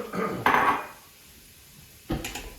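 Onions and carrots hit a hot pan with two bursts of sizzling crackle, the second arriving after a short quiet gap, close by.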